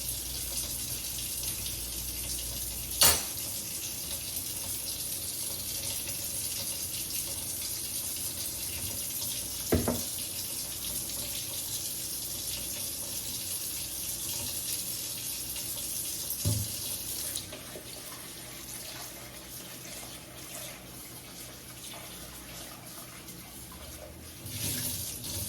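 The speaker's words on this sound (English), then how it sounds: "Wash your shrimp with some lemon." Tap water runs in a steady hiss while shrimp are washed with lemon in a container, broken by a few brief clunks and splashes of handling. No one speaks.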